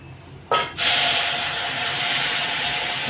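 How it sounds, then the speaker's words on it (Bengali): Lentils poured into hot oil for a Bengali matar dal: near silence, then a sudden loud burst of sizzling that settles into a strong, sustained close hiss. "এখন আমি ডালগুলো সব দিয়ে দেবো"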